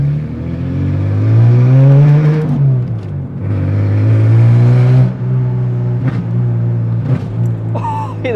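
A Ford Falcon with a Redback exhaust revs hard and accelerates up close, its loud engine note rising and falling through several pulls, with a short pop near the end.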